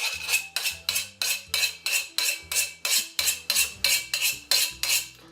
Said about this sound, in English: You are gonna need to scrape down the sides, which I'm sure is a lovely sound.